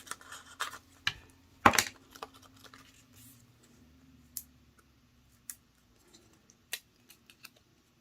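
Scissors trimming the edges of paper die cuts for a card, a scattering of short crisp snips and clicks, close and quiet, spread unevenly over several seconds with pauses between cuts.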